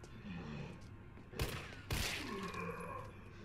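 Two sharp shots from a small handgun in the video game Resident Evil 3 crack out against a constant low background rumble.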